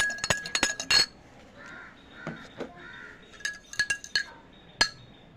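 A spoon stirs salt into water in a drinking glass, giving a series of sharp, bright clinks in quick bursts with short quiet gaps between them.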